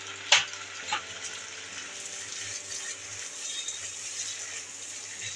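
Chopped onion and tomato fry in a pan, a soft steady sizzle after a couple of sharp clinks at the start.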